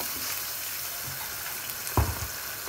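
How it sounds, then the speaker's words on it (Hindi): Spice masala for steamed vadiyan roasts in a pan with a soft, steady sizzle and frying crackle, broken by a brief scrape of stirring near the end. "अच्छे से अब हमने इस मसाले को भूनना है।"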